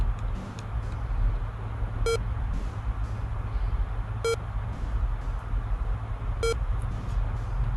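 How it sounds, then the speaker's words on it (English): Three short electronic beeps from a Pong-style video game, evenly spaced about two seconds apart, each a bright tonal blip over a steady low hum of background noise. "So, Pong Beep. Let's play Pong Beep."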